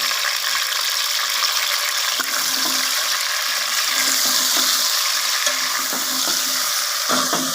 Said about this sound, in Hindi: ये चिकन हम अच्छी तरह से इसमें फ्राई करते हैं